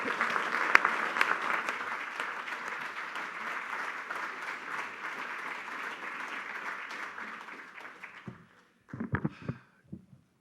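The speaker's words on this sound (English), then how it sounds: "one more round of applause for Professor Tucker" Audience applause at an evening forum on ecology and religion, dense steady clapping from a crowd for about eight seconds before it thins and stops, followed by a few scattered sounds.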